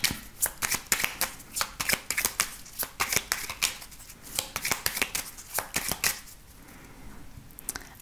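A deck of oracle cards is shuffled and cut by hand, producing a rapid run of crisp riffling flutters and slaps in steady bursts, close and fairly loud, easing off near the end.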